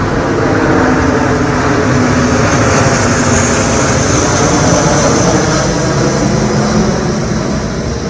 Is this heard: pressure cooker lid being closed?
no